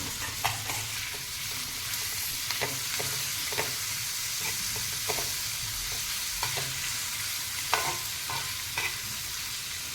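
Brinjals with curry leaves sizzle and fry steadily on a tawa, close by, with frequent light stirring clicks and scrapes over the continuous hiss and no talking.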